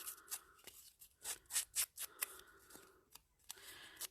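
Paper being cut with a blunt pair of scissors for a vintage-style mixed media journal page, a close series of crisp snips and rustling slices, some quick in pairs, with no one speaking.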